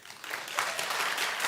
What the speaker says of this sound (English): Clap if you think Harry's supposed to call.